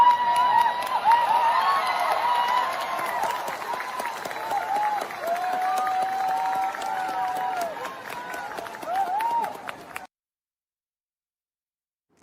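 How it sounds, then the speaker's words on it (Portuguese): Students and graduates applauding as a crowd, a steady wash of clapping with some voices mixed in, continuing evenly before cutting off abruptly. "foi ali aplaudido por alguns alunos, alguns formandos"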